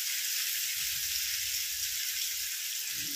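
Pomfret fish sizzling steadily in a pan of hot oil, a loud, even crackle and hiss throughout, with faint low thumps beneath.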